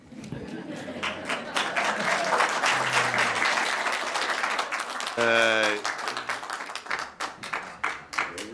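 Audience applause at a city council meeting, a dense burst of many hands clapping that swells and then thins into scattered claps, with a voice speaking briefly over it.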